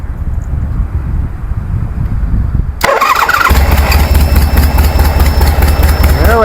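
1973 Harley Sportster with CV40 carburetors cranking and firing abruptly after a quiet stretch, then settling into a loud, steady, throbbing idle that holds to the end.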